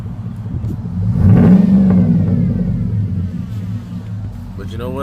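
Close and loud, the engine of a 2004 Chevrolet Suburban with a new exhaust revs up, swelling into a deep rumble and whir, then settles back to a throaty idle.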